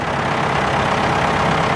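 Tractor engine idling on a hay farm, a loud, steady low rumble held close and unchanging for a couple of seconds, with no voices.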